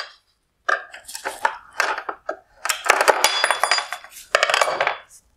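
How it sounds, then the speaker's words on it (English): Metal cover being pried and pulled off the back of a 2019-2020 Toyota Tundra LED headlight, with a run of close, bright metallic clinks, scrapes and rattles in irregular bursts separated by short pauses. "Next, on the rear of the light, I need to remove this metal cover."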